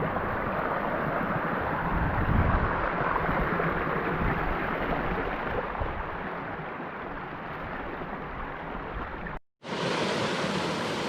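Small waterfall cascading down a mountain stream in the Wichita Mountains wilderness, a constant close rush of splashing water with wind buffeting the microphone, briefly cut off near the end before resuming.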